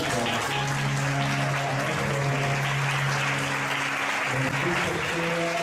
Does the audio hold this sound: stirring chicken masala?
no